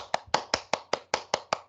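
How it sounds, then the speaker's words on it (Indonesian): Clapping for a presenter named Lita in an online communication class, eight sharp, evenly spaced hand claps from a single nearby person. "Kita berikan tepuk tangan bersama ya untuk Mbak Lita ya"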